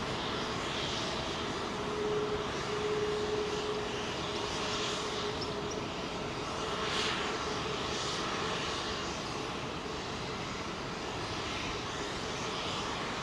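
Delta Air Lines Boeing 767-400 jet on the runway at London Heathrow, a steady broad engine roar from a distance that holds at an even level throughout with no voices.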